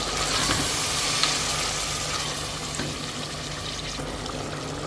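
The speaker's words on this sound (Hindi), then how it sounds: "अब दही के साथ मटन की भुनाई करेंगे 2 मिनट के लिए" Mutton frying with yogurt for a dhaba-style white stew, a steady close sizzle and bubbling hiss with occasional spoon stirs, heard alone.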